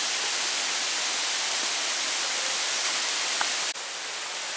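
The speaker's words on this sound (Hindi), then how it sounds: "अब दिखा क्या, ये रहा झरना।" Bee Falls waterfall in Pachmarhi, India, roars in a constant, broad rushing wash of water, close and loud, with no voices.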